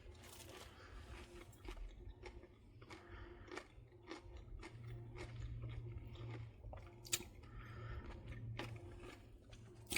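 Pickles being bitten and chewed, a run of wet, crunchy chomps repeating irregularly, close to the mouth and fairly quiet, with no talking.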